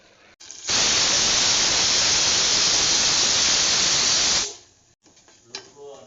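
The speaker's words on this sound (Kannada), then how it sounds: "ಚಟ್ನಿ ಕೂಡ ಒಗ್ಗರಣೆ ಮಾಡಿಕೊಂಡಿದ್ದಾಯಿತು" Tempering for chutney sizzling in a pan, a sudden loud hissing burst that holds steady for about four seconds, then cuts off, with faint voices before and after.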